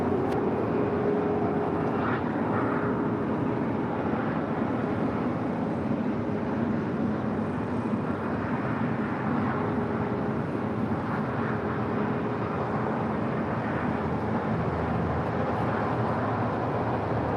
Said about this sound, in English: Delta 699 LA tower, 25 right, line up and wait